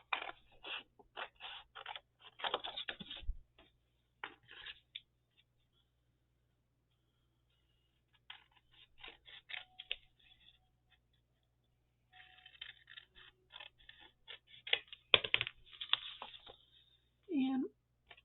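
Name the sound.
scissors cutting a file folder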